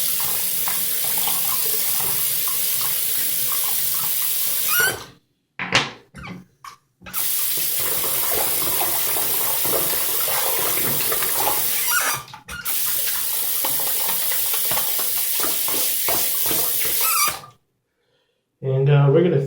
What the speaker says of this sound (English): empty the sink real quick